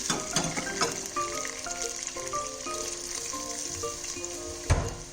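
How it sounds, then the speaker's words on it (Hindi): Meat with tomato and onion masala fries in oil in a pot for butt karahi, giving a steady close sizzle with bubbling crackle. Faint tonal sounds run underneath, a brief knock comes near the end, and there is no talk. "अब ये ना तकरीबन भूनने वाला है, ऑयल छोड़ने वाला है"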